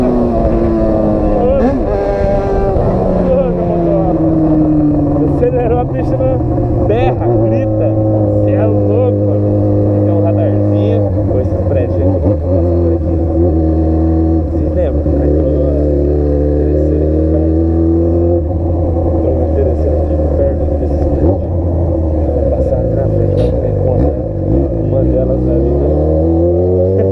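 A car engine revs hard and accelerates over and over, loud and close. Its pitch climbs and drops with each surge across a long, unbroken stretch.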